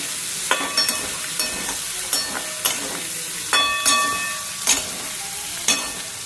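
Boiled potato pieces stirred with spices in a pan, a spatula scraping and clinking in a steady rhythm of sharp metallic taps over a low background sizzle.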